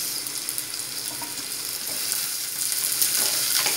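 Onions fry in oil with red chilies and curry leaves, a dense bright sizzle that holds steady and grows slightly louder, heard up close without any talking.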